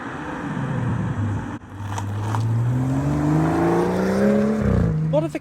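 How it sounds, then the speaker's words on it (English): A BMW M140i fitted with a Remus exhaust, Offspray intake pipe and K&N panel filter revs up close by, its engine note climbing steadily in pitch, cutting out briefly, then surging higher again before dropping off sharply at the end. "I wanted just a little bit more intake noise, so I installed that Offspray intake pipe"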